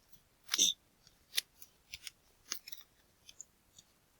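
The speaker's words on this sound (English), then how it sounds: "It's time to open this Chaoscards order, in which I expect to find trading card game stuffs." A Chaoscards package box of trading card game items being cut open, with crisp close snips and scrapes of a blade through cardboard and tape, starting with a strong cut and followed by lighter, irregular cuts.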